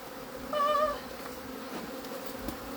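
Angry honey bees buzzing around an opened hive during a hive split, a dense steady drone with one louder bee passing close by near the start.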